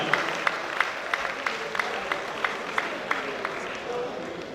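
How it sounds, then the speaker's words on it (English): At a closing ceremony, an audience gives a round of applause for the zonal chairman, heard as evenly spaced, fairly distinct claps over a low background of crowd noise. "Please, a round of applause for our zonal chairman."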